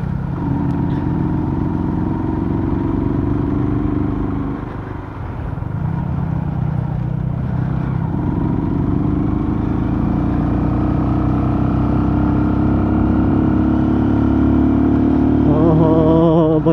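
A vintage XL motorcycle engine runs loud and close with a steady throbbing drone, dipping briefly as the revs change, then holding a constant rumble as the bike keeps riding.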